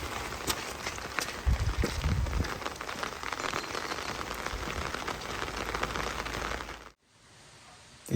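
Heavy rain pours steadily onto surfaces with dense drumming and scattered louder drops, then cuts abruptly to near quiet for the last second; nobody speaks.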